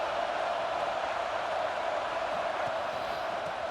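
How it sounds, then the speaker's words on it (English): Stadium crowd noise from the EA Sports College Football 26 video game, an Oklahoma Sooners game, as a steady, dense roar that holds evenly throughout with no talk over it. "to the crowd energy here in the early going."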